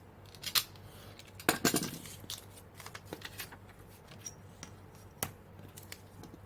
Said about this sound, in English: So now I'm just going to cut all of this into rectangles.